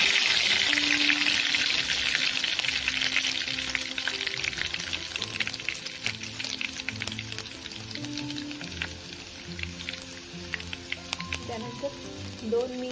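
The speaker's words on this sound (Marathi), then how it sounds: "ऑइल गरम झाल्यानंतर त्यामध्ये आपल्याला 2 ते 3 लसूण ऍड करायचे आहे." Garlic sizzles in hot oil in a pan, a steady close frying crackle that gradually settles, with occasional stirring clinks and light kitchen clatter.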